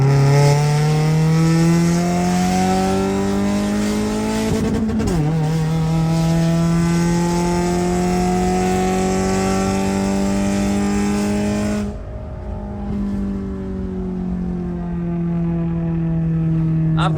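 A tuned race car engine needing more RPM revs hard and close, with a strong sustained harmonic drone that rises and falls in pitch as the throttle is worked, continuous throughout.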